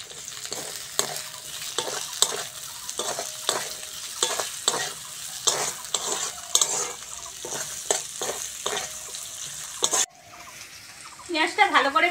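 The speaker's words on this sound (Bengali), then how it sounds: "পেঁয়াজটা ভালো করে ভেজে নিয়েছি" Onion frying in a pan with crushed garlic for a potato curry, a steady sizzle broken by repeated sharp scrapes of a spatula, close and fairly loud; the sizzle cuts out near the end and brief rustling follows.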